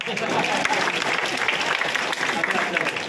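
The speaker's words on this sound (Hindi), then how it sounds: "अच्छा लगे तो ताली बजाना।" An audience claps after a Hindi poem is recited at a Hindi Day celebration, giving sustained, dense applause from a crowd with a voice faintly audible underneath.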